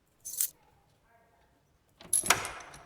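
A ring of keys jangles in a mystery video game, with a short metallic rattle at first, then a quiet pause, then a louder, longer jingle as they are picked up.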